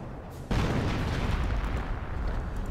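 Mortar shell explosion in a Company of Heroes 1 battle, striking pioneers near a base: a sudden loud boom that swells into a long, heavy rumbling roar with debris crackle.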